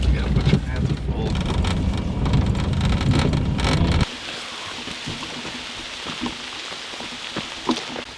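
Rain falls at an off-grid workshop in a sugar bush, a dense steady hiss that is heavy for the first few seconds, then drops to a softer patter with scattered drips.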